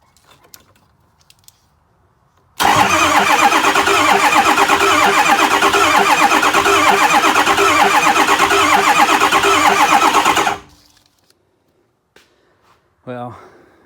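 A swapped 6.0 Powerstroke diesel in a 1986 Ford bullnose truck, with its transmission lines left unhooked, cranks and fires, then runs loud and rough for about eight seconds before shutting off; a short voice follows.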